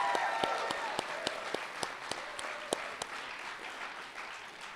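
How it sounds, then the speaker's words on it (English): Audience members at an awards ceremony clap for building staff. Distinct, closely miked claps, likely from one person nearby, ring out rhythmically over a wider ripple of room applause, thinning out toward the end with some voices underneath. "Give them a round of applause, especially."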